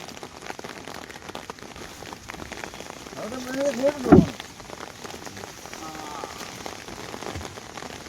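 Heavy rain pours down during a boat trip through a forest, a steady hiss of drops on surfaces throughout, with a brief louder burst of movement midway.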